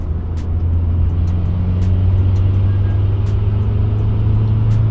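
A Mitsubishi Evo IX engine running at a steady idle, a loud continuous low rumble with some faint ticking on top, no speech.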